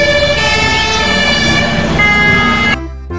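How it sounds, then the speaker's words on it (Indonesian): A toy fire truck's electronic siren wails loudly and close for under three seconds with a bright, tonal warble, then cuts off abruptly into near silence. "mobil pemadam kebakaran."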